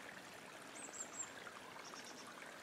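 Water trickles steadily over the edges of a beaver dam in a forest stream, a soft continuous gurgling wash, faint and close, with no voices.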